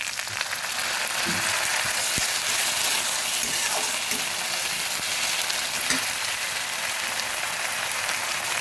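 Ginger paste frying in a pan with a splash of water, for a dish of kechki fish with flat beans and potatoes: a loud, steady, crackling sizzle that fills the whole stretch, dense and close, with no talking.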